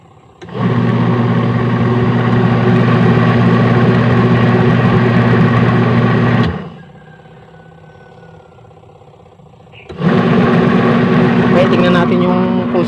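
Newly installed washing machine motor running on test, a loud steady humming drone that cuts off, leaves a quiet gap of a few seconds, then starts up again at full strength.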